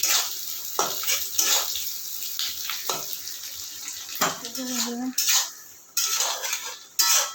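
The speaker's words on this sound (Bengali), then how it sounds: "এবার দিয়ে দিচ্ছি আমি পেঁয়াজের কুচিগুলো টুকরোগুলো এইটাও হালকা একটু ভেজে নেব" Chopped onion pieces tossed into a pan and stirred, bursts of sizzling broken by clinks and scrapes of utensil against metal, with a short moment of murmured voice.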